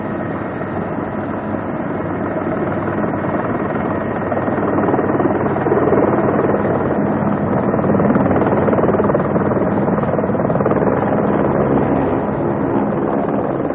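Steady, loud thrum of a nearby helicopter, its rotor and engine roar continuing unbroken with no voices.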